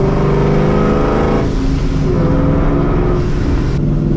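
Supercharged New Edge Ford Mustang GT engine revving hard under acceleration while driving, a loud, continuous roar rising and falling in pitch with no talking over it.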